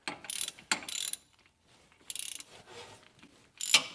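A ratchet with a 1/2-inch socket tightens a filler plug on an off-road vehicle's differential cover. It gives several quick bursts of rapid clicking, close and crisp, with short silent gaps between them.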